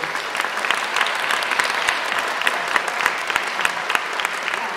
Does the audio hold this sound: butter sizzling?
no